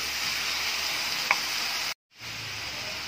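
Bitter gourd with onion and garlic hisses in a pan as it is sautéed and stirred, a steady close sizzle with one light tap midway and a brief cut to silence before the frying resumes.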